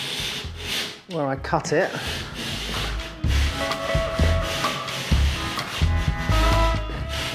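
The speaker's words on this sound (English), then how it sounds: "So I'm using this surf form just to take off a few millimeters" A surform rasp shaves a few millimetres off the edge of a wooden board for an 18th-century ceiling restoration, making steady scraping strokes close by, with a brief voice at the start.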